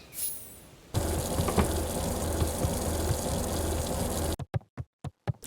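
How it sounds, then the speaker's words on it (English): A tap runs water in the video game Beacon Pines, a steady loud gush that starts abruptly and then cuts off into a few short bursts. "I'm leaving the water on, and you can't stop me"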